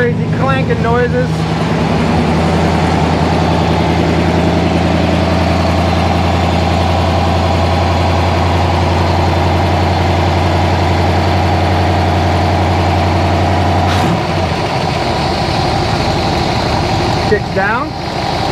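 A 1955 Ford Y-block V8 engine with bent push rods and an exhaust leak idles steadily with a deep, lumpy rumble, close by, for most of the clip before it cuts out near the end.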